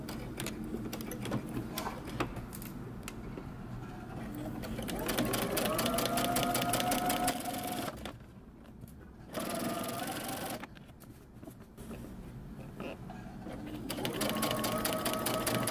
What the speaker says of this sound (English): we're going to stitch close to the edge.